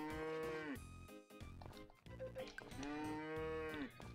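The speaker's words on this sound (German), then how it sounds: "Es sind so viele Kühe. Ich komme gar nicht mehr mit. Zu viel Mumu." Several cows in the Story of Seasons: Friends of Mineraltown farming game moo loudly and close, two long drawn-out moos with overlapping farm sounds and no talking.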